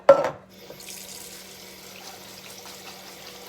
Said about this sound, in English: So we want to make sure to rinse that out, rinse the beans, and make sure we get off those preservatives